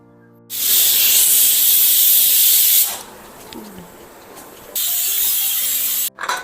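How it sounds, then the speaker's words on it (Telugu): A pressure cooker of gongura dal hisses loudly with escaping steam in two long bursts, a steady broadband spray broken by a quieter stretch, then cut off abruptly near the end. "6 విజిల్ వచ్చే వరకు పెట్టేద్దాం."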